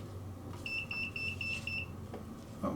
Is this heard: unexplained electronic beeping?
yes